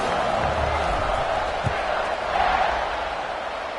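Stadium crowd in the College Football 25 video game roars steadily at kickoff, a dense, sustained wash of cheering with a brief thump near the middle.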